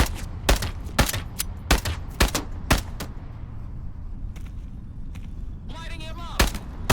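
Gunfire in the VR shooter Into the Radius 2: a string of loud, sharp single shots at uneven intervals, a brief lull, then a few more close reports.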